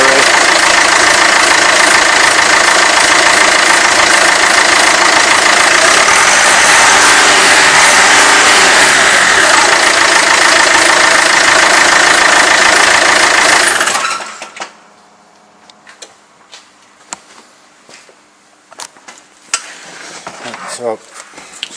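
A diesel engine revs up loud and steady during a common rail pressure test, a sustained rising roar that cuts off abruptly, leaving quiet clicks and faint background noise.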